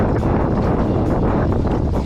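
Strong wind buffets a small fishing boat out on Lake St Clair, a steady loud rushing roar with gusty low rumble and no engine or voices, filling the whole stretch.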